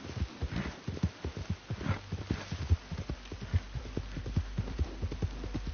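Horse hooves clip-clopping in Red Dead Redemption 2, a steady, close rhythm of soft thuds at walking pace over a low hum, with no speech.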